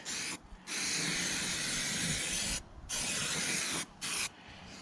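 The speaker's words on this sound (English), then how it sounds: "So a can of aerosol etching primer." An aerosol can of etching primer sprays onto a car door in three bursts, a close steady hiss, the middle one longest, with brief pauses between.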